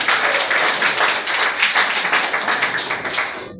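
An assembly at an official installation of a youth urban council applauds, dense steady clapping from many hands that stays fairly loud and fades slightly toward the end.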